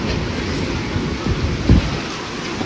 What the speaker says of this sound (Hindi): मतलब कोई वो नहीं है सीजन की, तभी बारिश हो रही है।